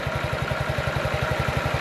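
A 2017 Honda Ruckus scooter engine idles low and steady, a close, even putter of rapid pulses that holds its pace throughout without revving.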